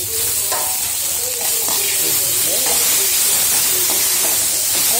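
Tomatoes frying in a pan for chana dal chutney, a loud close sizzle and hiss with scraping stirs, plus faint voice traces in the background.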